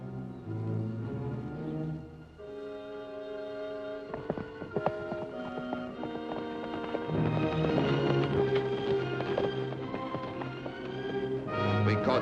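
Galloping horses pull a wagon at speed through high country near Silver City, hoofbeats pounding under a swelling orchestral score that grows louder toward the end.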